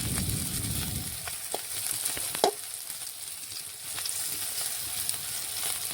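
Vegetables for shukto, a Bengali mixed-vegetable dish, fry in hot oil with a steady close-up sizzle and a few light clinks as pieces are turned.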